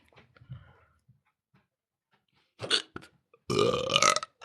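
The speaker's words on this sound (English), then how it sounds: "I just have the hiccups." A person's hiccups, a few short squeaky bursts: a faint one early, then two louder close hiccups near the end, in a quiet room.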